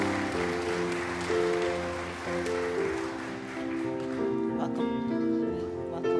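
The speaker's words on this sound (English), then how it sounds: "Applause." A congregation at a Sunday church service applauds new members being welcomed, a steady, dense wash of clapping that continues alongside sustained musical tones.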